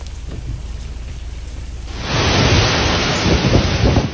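A heavy rainstorm with thunder in a coastal region, steady rain at first, then a sudden surge into a dense, loud downpour with deep rumbling and pattering that continues to the end.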